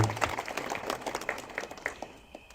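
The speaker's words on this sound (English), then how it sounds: "Big clapping for her." An audience at a spiritual satsang gathering in Los Angeles applauds, a faint patter of scattered hand claps that rises briefly and then thins out.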